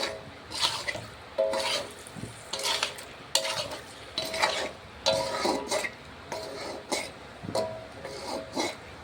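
Fish curry lightly sautéed in a pan over raised heat, heard as repeated close spatula strokes scraping the pan in an uneven rhythm over a soft background sizzle.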